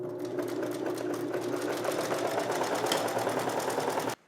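A sewing machine runs continuously at a fast, even stitching rhythm for a few seconds, then stops abruptly.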